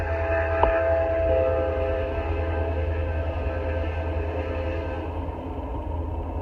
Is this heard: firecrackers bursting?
no